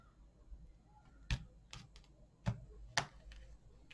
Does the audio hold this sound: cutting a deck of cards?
yes